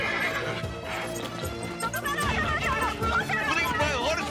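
A cartoon horse neighs and whinnies loudly over galloping hoofbeats, with music and busy voices mixed in.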